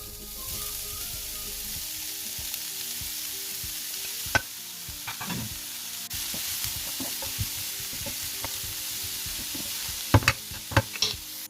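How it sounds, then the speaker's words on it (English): Onions fry in hot cooking oil over medium heat for a samosa filling, giving a steady soft sizzle with scattered scraping and knocking stirs that sharpen into a few sharp clatters near the end. No voices. "Once oil is hot, drop your heat to medium and add in the onions."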